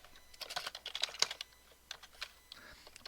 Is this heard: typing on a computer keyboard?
yes